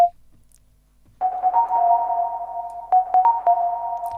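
Harsh synth tones drenched in reverb in a techno track, a sustained ringing pitch with a few sharp stabbing hits layered on top, loud and upfront after a near-silent start.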